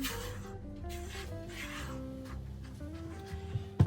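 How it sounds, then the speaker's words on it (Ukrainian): Close scraping and rubbing of a utensil stirring dry flour, salt and dry yeast around a bowl for ciabatta dough, a steady soft rasping with a small knock at the end. "Перемішуємо."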